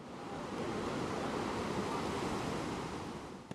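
Big ocean waves break on a rough Bali beach where fishermen work with nets, a loud continuous roaring wash of surf that swells and holds steady with no voices.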